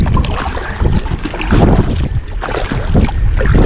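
Gusting wind buffets the microphone over choppy water slapping around a small trout-fishing boat on a Scottish Highlands loch, loud and continuous.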